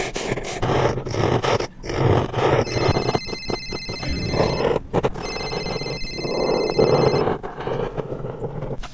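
A cellphone rings with a bright tonal ringtone in two long bursts, a short gap between them, sounding over a dog's panting and rustling close by.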